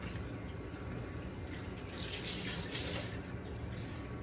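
A kitchen tap runs steadily as a potato is rinsed under it, the water's hiss continuous and close, with no talking.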